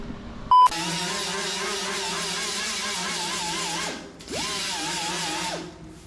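A power sander with 120-grit paper works over body filler during car bodywork repair, a steady loud whirring drone that runs alone for about three seconds, cuts off briefly, then spins up again for another stretch.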